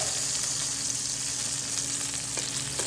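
Pieces of rabbit browning in a frying pan give off a steady, dense sizzle that holds evenly throughout, with faint stirring scrapes underneath and no talking.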